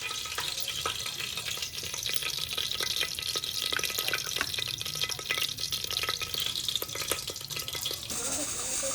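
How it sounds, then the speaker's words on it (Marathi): Whole spices hit hot oil for an aloo pulao, making a continuous, close crackling sizzle with brief bubbling spurts and a faint voice underneath. "आता तेल गरम झालेलं आहे,"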